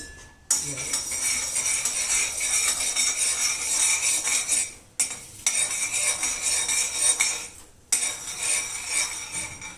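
A spoon stirs a mixture containing desi ghee in a pot over a high flame, giving continuous close metallic scraping and clinking with brief pauses between strokes.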